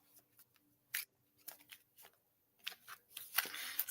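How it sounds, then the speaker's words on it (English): A deck of oracle cards being shuffled by hand, heard as scattered crisp riffles and flicks that build into a denser, louder burst of card noise near the end, close up with no talking. "grab a deck of Oracle cards, and then you're going to give them a shuffle."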